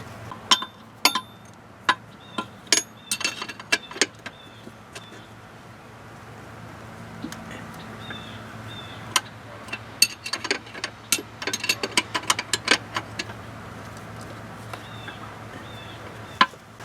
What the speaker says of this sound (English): Got one of these flex head ratcheting end wrenches.